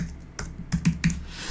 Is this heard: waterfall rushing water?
no